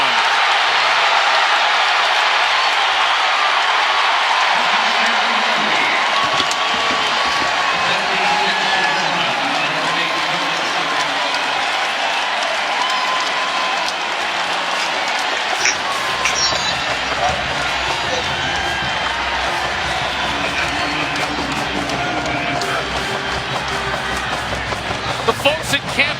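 A sellout stadium crowd at Amon Carter Stadium roars through a 76-yard touchdown run in a college bowl game, a dense, sustained wall of cheering with a commentator talking over it.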